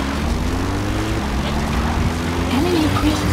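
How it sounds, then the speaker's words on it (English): Support helicopter arriving in the video game Metal Gear Solid: a steady rotor and engine drone holds throughout at a constant level, with a voice speaking over it. "Support helicopter requested."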